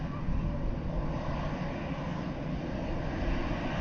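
Jet airliner engines at Dublin Airport, a loud, steady broadband roar held for the whole stretch without fading, heard from a distance with no speech over it.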